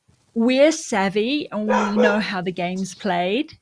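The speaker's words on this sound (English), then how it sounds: "That's my dog." A dog barks and yips excitedly in short bursts beneath a person's continuous close talking.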